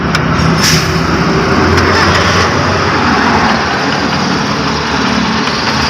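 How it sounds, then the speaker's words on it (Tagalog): The 4G63 gasoline engine of a Mitsubishi L300 runs loud and close with a misfire, a rough steady drone with uneven knocking throughout. "nagiging palyado ang makina"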